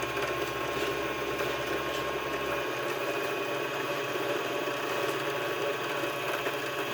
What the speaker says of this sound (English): I'm going to go ahead and fill the bobbin up